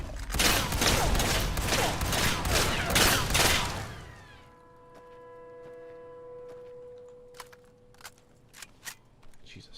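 About seven loud, rapid shotgun blasts fire in quick succession in Fallout New Vegas: Lonesome Road. They give way to a low electronic hum and a few faint clicks and taps.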